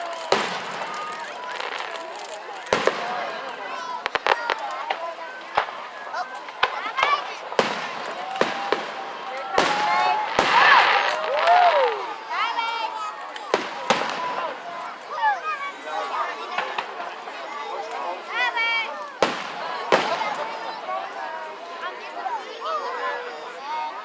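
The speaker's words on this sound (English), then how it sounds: "It's a firework, bro." Fireworks explode at a Clearlake, California celebration, with a series of sharp bangs and crackles scattered at irregular intervals, while people nearby talk and call out throughout.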